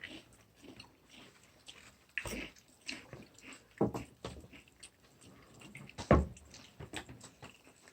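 Several people chewing hot chicken wings up close, wet biting and smacking in irregular bursts with occasional louder crunchy bites, no talking over it.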